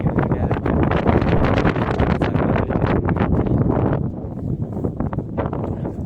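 Strong wind buffets the microphone in loud, rumbling gusts, easing slightly toward the end but never stopping.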